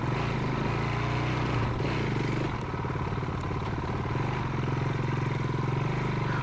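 A City motorcycle engine drones steadily on narrow country roads lined with dry-stone walls, a loud continuous hum with a slight dip in pitch midway and wind rumble throughout.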